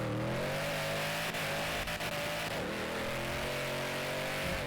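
A 2024 Ford Mustang S650 with a Gen 4 Coyote V8 revs hard through an acceleration pull, a loud sustained engine roar whose pitch climbs steadily and then dips briefly, close and unbroken, with no talking.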